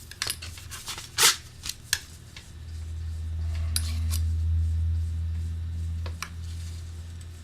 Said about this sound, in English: Cut the cork.